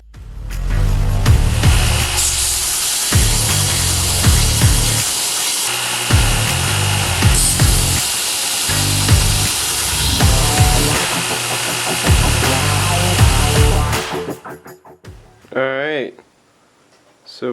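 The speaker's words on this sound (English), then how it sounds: "now I'm just going to hold on to my magnet bar here and sand this down" Sanding a steel knife blade held on a magnet bar produces a continuous loud, rough abrasive rasp with rhythmic surges for about fourteen seconds, then it stops and gives way to quieter handling sounds.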